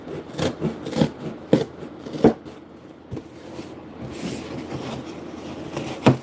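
A tool being sharpened by hand rubbing, with a series of gritty, rasping scrapes in an uneven rhythm, close and moderately loud, with quieter scraping between the stronger strokes.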